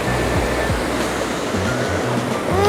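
A big waterfall in a forest canyon roars as a continuous, loud broadband rush of falling water, heard up close with faint voices underneath.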